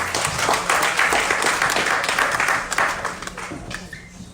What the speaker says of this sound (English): Give him a hand clap as he comes.